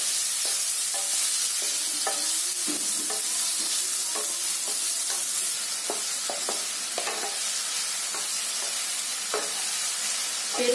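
Guava pieces fry in a pan and are stirred, a constant bright sizzle broken by repeated spatula scrapes and taps, close and with no talking.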